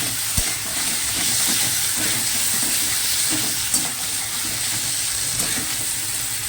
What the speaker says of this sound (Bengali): এর মধ্যে দিয়ে দেবো আলুটা, আলু বড়িটা একসাথে দিয়ে দিলাম